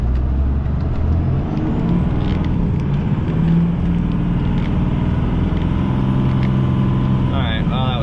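A 12-valve pickup truck on mud tires slides sideways on a snowy road in a blizzard. Its engine and road rumble drone loud and steady, and someone talks over it.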